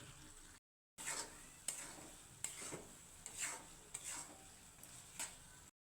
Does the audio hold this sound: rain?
no